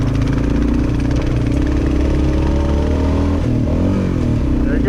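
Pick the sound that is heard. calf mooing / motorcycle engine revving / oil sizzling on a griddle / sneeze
motorcycle engine revving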